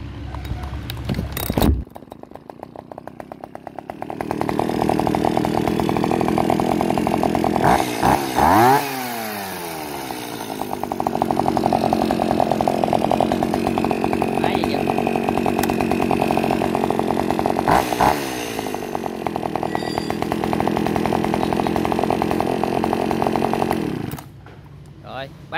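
An Echo 332 chainsaw is pull-started and runs loud and close, idling and revving in long sustained stretches with sharp pitch sweeps as the throttle is blipped, stopping near the end.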